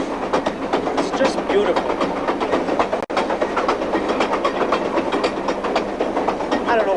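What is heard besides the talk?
diesel locomotive train running on rails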